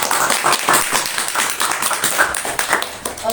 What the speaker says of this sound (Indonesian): Tepuk tangan dong buat acara ini.